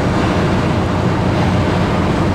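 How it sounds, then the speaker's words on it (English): Strong wind buffets the microphone of a vehicle driving along a road near Roanoke, Virginia, making a constant, loud broadband rush with no breaks and no voices. "It's windy today. I'm getting blown around a little bit."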